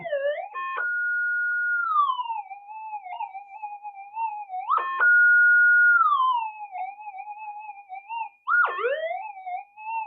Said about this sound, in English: Now let's sound off the detector a bit.